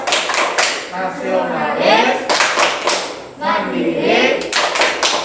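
Children in a classroom perform a rhythmic clap chant, with sharp bursts of group clapping in patterns alternating with a teacher's spoken and chanted words.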